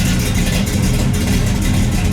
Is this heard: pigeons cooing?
no